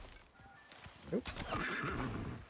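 A horse in a harsh-world survival video game gives a short whinny, followed by thudding and rustling game sounds as someone talks over it.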